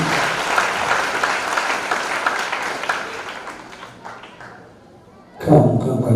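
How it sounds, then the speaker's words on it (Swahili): A church congregation applauds a sponsor at the grand opening of a new sanctuary in Dandora. Dense, lively clapping fills the room, then thins and fades, followed by a short burst of sound at the end. "Tupige fadhili makofi mazuri sana"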